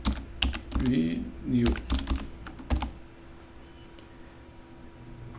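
Clicks of typing on a computer keyboard, a quick scattered burst of keystrokes under a man's speech, then fading to a quiet hum.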